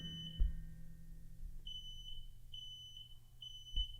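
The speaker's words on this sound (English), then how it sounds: "The fire alarm." A smoke alarm chirps in short high-pitched beeps, repeating about once a second, over a low steady hum with a couple of soft knocks.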